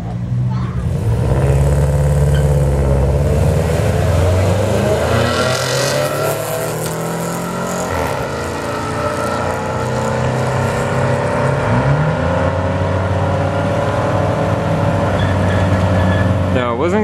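Shiny blue Camaro and Subaru wagon drag racing on a Friday night street-legal event at a raceway park: sustained engine roar with rising revs as the cars launch and pull away, loud and continuous, with an announcer talking over it.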